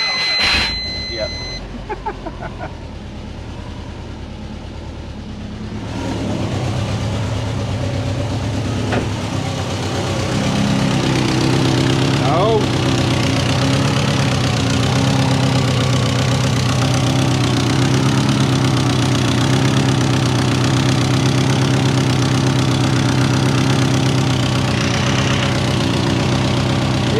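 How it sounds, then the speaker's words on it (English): A Subaru Forester's engine starts and settles into a steady idle with a leaking exhaust, a close, continuous low rumble with a slightly rough, puffing edge, while someone talks over it. "as you can tell there, the exhaust is leaking"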